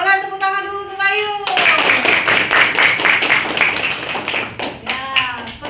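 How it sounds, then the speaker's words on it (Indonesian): Students in a classroom clap for a classmate after a voice speaks; a dense burst of hand claps runs for several seconds before fading as speech returns. "Boleh tepuk tangan dulu untuk Bayu."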